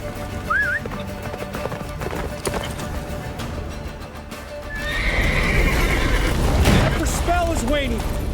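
A horse gallops through snow in The Witcher 3, steady clip-clop hoofbeats under music and character dialogue, with loud whinnies breaking out in the second half.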